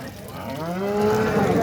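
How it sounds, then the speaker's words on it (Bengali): A cow moos at a busy rural cattle market in Bangladesh, one long, rising, drawn-out call close by against faint market background noise. "একটা গাবি আছে বাচ্চা সহ"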